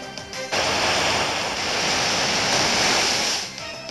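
Pokémon Omega Ruby Surf water attack: a loud, sustained whoosh of rushing water and crashing surf swells in after a brief lead-in, holds for about three seconds, then fades back.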